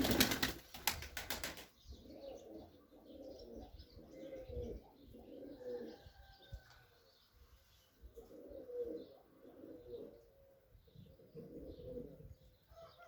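Pigeons bathing in water flutter and splash with bursts of wing flapping, then soft cooing and chirps follow; the wings are loudest at the start.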